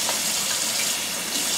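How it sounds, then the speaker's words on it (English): Cold water pours steadily from a kitchen tap while hot water cornbread patties are being shaped, a constant close gushing flow with no break. "Cold water."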